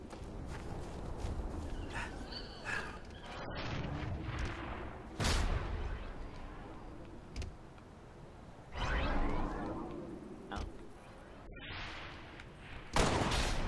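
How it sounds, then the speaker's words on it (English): Video game gunfire in Halo Reach, with bursts of shots and blasts spread across the stretch, heard at moderate level amid other in-game noise. "Stop shooting at me."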